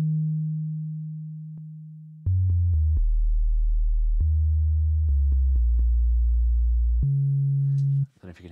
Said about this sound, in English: sine waves out of the subtractor, at least, have these weird high-end